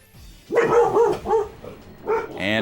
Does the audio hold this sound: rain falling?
no